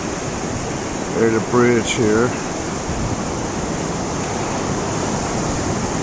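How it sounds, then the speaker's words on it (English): Loud ocean waves on the Oregon coast make a constant broadband roar that fills the scene, with a person briefly speaking over it. "The ocean's pretty loud."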